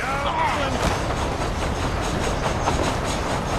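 A train running in the Red Dead Redemption Undead Nightmare video game, a continuous rumbling clatter of wheels on rails with faint rhythmic clicks, steady throughout and moderately loud.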